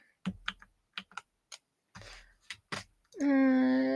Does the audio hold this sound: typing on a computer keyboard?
yes